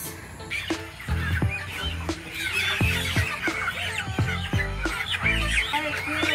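Many broiler chickens on a farm cluck and squawk together in a dense, constant chorus, with occasional sharp thumps and clatter nearby.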